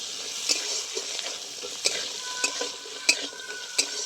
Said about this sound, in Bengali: খুব ভালো করে কিছুক্ষণ কষিয়ে নেব।